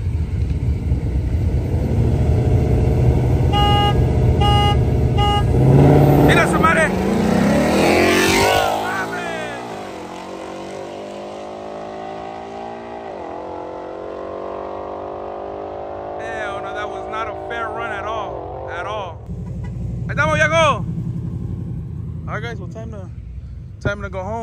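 Street racing between a Mustang and a fast BMW, with engine notes rising and sweeping in pitch through the middle of the clip as the cars accelerate. People talk loudly throughout, over the engines.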